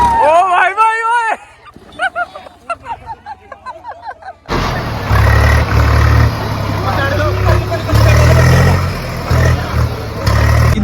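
A small tractor straining through extreme off-road ground where it had been stuck, its engine droning loud and steady after a stretch of shouting voices, with people talking over it.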